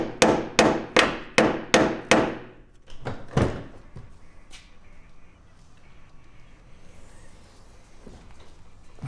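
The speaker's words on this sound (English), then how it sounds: "Now, we just have to lift the door, set down into its pocket there." A DIY Lamborghini-style vertical car door conversion rattles and clunks as the door is lifted and set into place. About seven sharp metallic knocks come in a quick, even series, then lighter clicks and handling noise.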